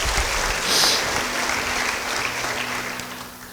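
Church congregation applauding during a sermon, a loud, dense burst of clapping from many hands that swells early and then gradually thins out over a few seconds, with a faint low hum underneath.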